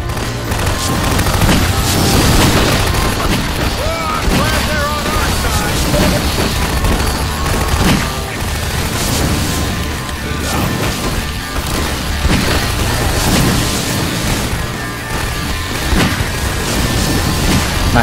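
Chaotic bursts of gunfire, crashes and impacts from the Half-Life 2: Episode 2 game, loud and dense throughout the mine fight with only faint speech under the din.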